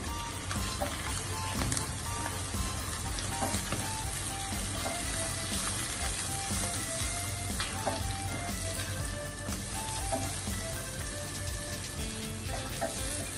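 Chicken and mushroom mixture with fresh cream sizzling steadily in a pan while being stirred, a close, continuous crackling hiss with light scraping, no talking.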